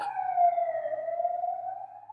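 A passing ambulance siren wails in a steady, slowly bending tone, fairly loud and alone with no talk over it.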